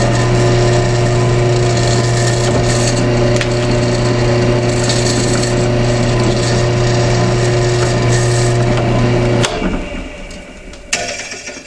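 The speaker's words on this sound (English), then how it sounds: "Take your time when you drill your holes and you'll have no problems." A power drill runs steadily as holes are bored through a Kydex belt loop for a pancake-style holster, a continuous whirring hum with strong low tones that cuts off near the end, followed by a couple of faint clicks.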